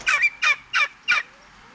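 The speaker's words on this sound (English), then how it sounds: "Those are the red bourbon turkeys." Red bourbon turkeys on a farm give four loud, evenly spaced calls in quick succession, each a short bright burst, then fall quiet.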